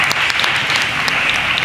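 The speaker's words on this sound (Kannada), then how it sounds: "ಅವರಿಗೊಂದು ಚಪ್ಪಾಳೆ ಕೊಡಿ" An audience claps for young primary-school children who have just performed at a Kannada literary council event, a dense, steady burst of applause that stays loud and close throughout.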